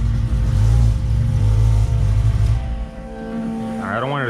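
A Toyota Supra idling with a drag exhaust in a garage, a loud steady low rumble that drops away as the engine is shut off, with a voice speaking near the end.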